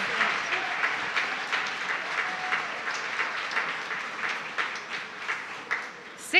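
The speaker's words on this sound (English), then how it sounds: "let's give them a round of applause" Live-stream show audience giving a round of applause, a steady wash of clapping at moderate level that swells slightly before ending.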